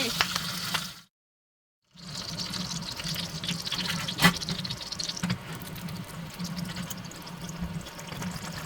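A whole pork belly roasts over low heat as fat pops and spatters in a constant close crackle. The sizzle drops out briefly, then returns with one sharper pop.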